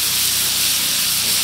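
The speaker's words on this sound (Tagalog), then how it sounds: "Napainit tayo ng sisig plate. Maglagay tayo ng star margarine." Star margarine melting on a heated sisig plate gives a loud, continuous close hiss of steam and spatter, unbroken and alone, cutting off abruptly at the end.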